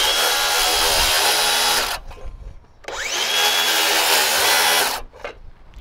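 A circular saw set to a 1.5-inch depth cuts through a wooden wall top plate in two loud, close bursts of whining, rasping cutting, each ending abruptly, with a short pause between them.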